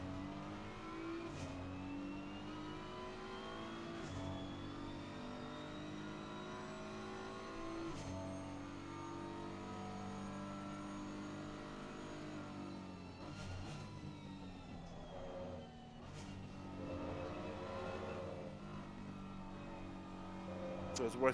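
GT3 race cars in the Assetto Corsa Competizione sim during an endurance race at Suzuka, heard as a continuous engine drone with rising and falling revs and gear changes, quiet and steady under someone talking.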